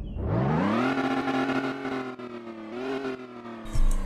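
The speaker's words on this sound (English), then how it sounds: "Let's do the rev test now." A 2019 Audi Q8 engine in a Roblox game revs sharply upward and holds a high, steady whine before dropping briefly and climbing again, clean and close with no background noise.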